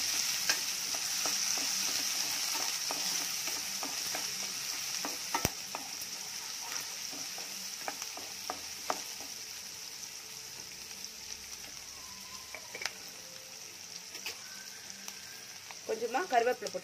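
Ingredients for a taro root curry sautéing in a pan, a steady bright hiss of frying with regular spatula scrapes and a sharp knock midway, busier stirring toward the end.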